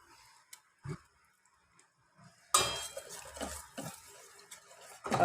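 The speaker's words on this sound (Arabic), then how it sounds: "حركها بعد ما ضفت الدقيق" A spoon clinks and scrapes in a pan on the stove as flour is stirred into melted butter, a few sparse taps first, then a steady busy stretch of stirring and metal contact.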